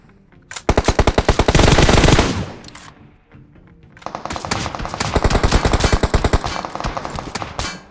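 Automatic rifle fire in the video game PUBG Mobile, two long rapid bursts of loud, close shots separated by a short pause, the second burst stretching longer and slightly less intense.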